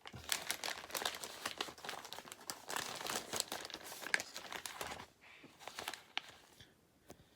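A plastic bag from an X-Wing model kit is handled and opened, a close crinkling and rustling that runs for several seconds, with a few sharper crackles, then thins to quieter sporadic rustles.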